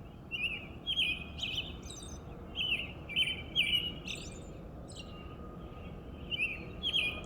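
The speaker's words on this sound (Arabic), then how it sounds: "البلبل شلون يغرد، اسمع." An Iraqi bulbul singing at dawn, bright whistled phrases repeated in short bursts every second or so, clear and fairly close over a quiet low background hum.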